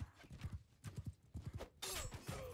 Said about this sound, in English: elite cataphract horse, I think